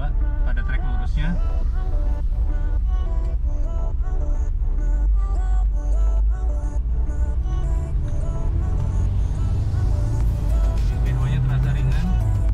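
Nissan Terrano test car driving along a straight track, a steady loud engine and road drone filling the whole stretch with music-like tonal layers and a voice talking over it.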